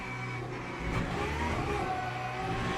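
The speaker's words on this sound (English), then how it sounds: "Nice Porsche sounds, huh?" Porsche GT3 race car in the Le Mans Ultimate sim game, its engine held at a steady, loud drone before the revs swing upward midway, with no voices over it.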